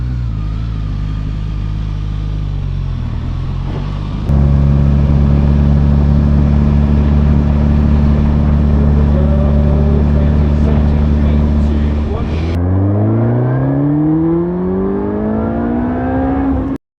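A Suzuki GSX-S1000GT motorcycle pulls a second-gear roll-on from about 20 to 70, the engine note droning loud and steady, then rising sharply in pitch as it revs hard near the end.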